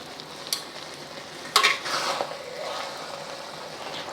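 Cooked spaghetti tossed into a hot wok, a few sharp clatters followed by a burst of sizzling and frying that settles into a steady hiss, close and moderately quiet.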